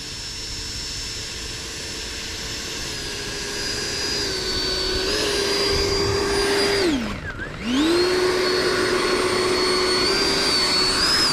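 An 80mm electric ducted fan model of a Rafale jet whines steadily and loud nearby, the tone swelling, then dipping sharply and rising again as the fan spools down and back up after a three-point landing.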